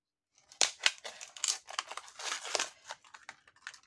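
A red ink pad being unwrapped from its packaging: a close run of crinkling plastic and paper with sharp tearing snaps, irregular and fairly quiet, with no speech over it.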